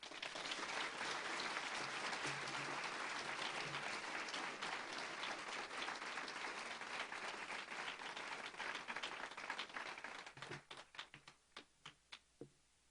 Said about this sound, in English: Let's give a warm round of applause for Jennifer Clement.